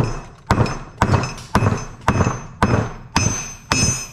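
A hammer striking bolts in a workshop while they are being broken off for scrap, seven sharp metallic blows at an even rhythm about half a second apart, loud and close, with no talking.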